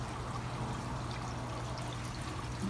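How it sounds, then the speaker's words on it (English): Garden hose water pouring steadily into an aquaponics reservoir, a constant close rushing trickle with a low hum underneath and no voices. "I'll bring the hose over here and top it off"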